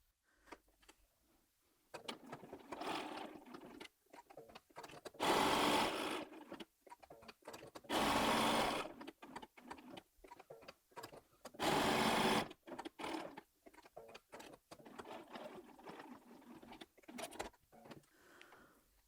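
A domestic sewing machine stitching quilting fabric for a pin cushion, its rapid mechanical whirr coming in several bursts of a few seconds each, separated by quiet pauses and small handling clicks.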